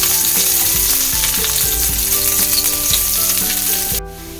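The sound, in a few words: sautéing chopped cloves in sesame oil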